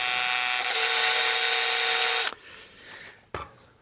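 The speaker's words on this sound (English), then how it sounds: "so we're going to use the electric drill to do that." An electric drill fitted with a 3mm bit whines loud and steady for about two seconds while enlarging a hole in a Scalextric Mini slot car, then cuts off abruptly, followed by a few faint clicks and a handling knock.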